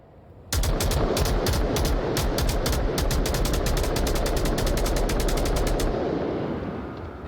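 Rapid automatic gunfire in a shooter video game match, a long sustained burst of closely spaced shots, loud and near, alone without talk, then cutting off and fading.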